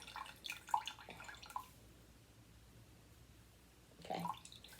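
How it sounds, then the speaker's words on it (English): Water dripping and trickling from wet yarn as it is wrung out, a few soft close splashes at the start and again near the end, with quiet gaps between and no talking. "we're going to try to wring out some of this extra water so it creates less of a mess"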